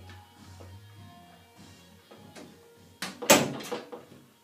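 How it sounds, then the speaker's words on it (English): A bedroom door swings open about three seconds in with a loud latch click and rattle, after a stretch of faint background music from a party elsewhere in the house. "Let me open my door here quickly so you can hear it."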